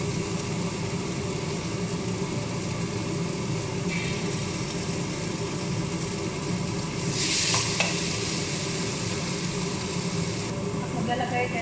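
Sheep mutton stew with added fat is stirred in a pot, a continuous close sizzle and bubbling hiss holding steady throughout, with a brief sharper scrape near the middle.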